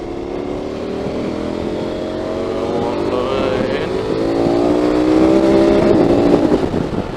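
A motorcycle accelerates onto the motorway, its engine note climbing steadily in pitch beneath heavy, continuous wind roar from riding at speed.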